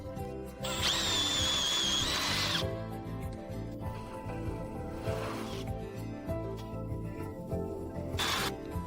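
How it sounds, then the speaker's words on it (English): A power drill whines loudly for about two seconds boring a 9 mm hole in an outer plate of a 2014 Ford Transit, falls quiet, then gives a brief second burst near the end over a steady background hum. "Drill the other 3 holes to 9 mm."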